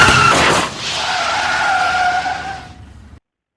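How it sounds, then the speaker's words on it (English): A tire blowout sound effect with a skid: a sharp burst followed by a long, loud tire squeal that holds for over two seconds, then cuts off abruptly into silence. "This is the blowout."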